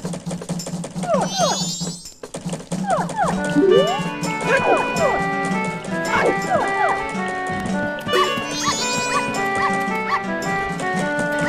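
A small dog barks and yips repeatedly in the video game The Legend of Zelda: Majora's Mask, over steady game music and bright chiming effects, with a short gap partway through.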